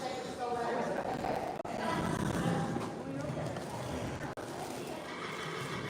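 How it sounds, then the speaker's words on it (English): Horse hooves clop along amid a busy, echoing crowd, with voices talking over the steady shuffle and an occasional whinny. "So they're trying to bring the horses in here."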